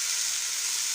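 Tomato and chopped green chili fry in a pan with a steady, bright sizzle, continuous and close, with no speech.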